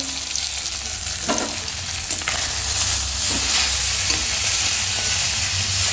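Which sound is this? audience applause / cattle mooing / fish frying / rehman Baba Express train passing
fish frying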